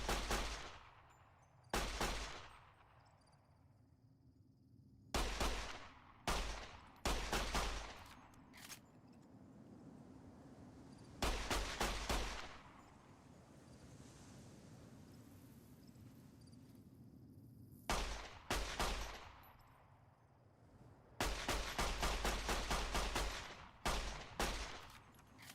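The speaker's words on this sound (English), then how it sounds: "I really can't tell if any of these shots are connecting" Repeated gunfire from a video game, Fallout: New Vegas, comes in loud bursts of rapid shots with short pauses between them, including one long sustained volley near the end, and no talking over it.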